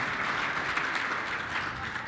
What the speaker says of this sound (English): So quick applause to the AV guy.